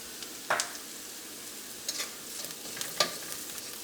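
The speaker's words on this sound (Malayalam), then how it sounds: "മഞ്ഞൾപ്പൊടി എണ്ണയിൽ കിടന്ന് നന്നായിട്ട് മുരിഞ്ഞിട്ടുണ്ട്" Turmeric powder frying in oil in a pan, a low, steady sizzle up close broken by three or four brief scraping stirs of a spoon, with no voices.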